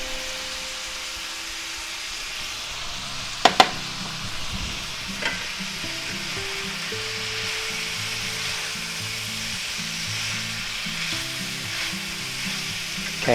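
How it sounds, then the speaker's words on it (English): Already-cooked noodles stir-fry with ground beef and vegetables in a hot pan, giving a steady, even sizzle throughout, broken by a couple of sharp utensil clicks near the start and occasional scraping. "let's go ahead and add some of our already cooked noodles."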